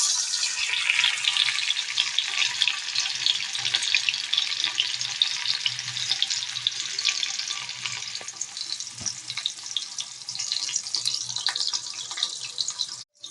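Panch phoron spices sizzle in hot oil for a Bengali sajne data chorchori with mustard, a steady close hiss of frying that holds evenly throughout with no talking.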